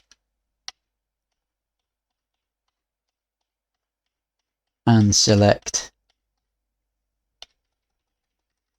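A few isolated, crisp keyboard key clicks spaced far apart in near silence, with a brief spoken phrase in the middle.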